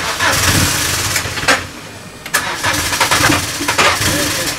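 A rally car engine cranks and catches, rising in bursts of loud mid-pitched revving with brief dips, close by, with faint voices in the background.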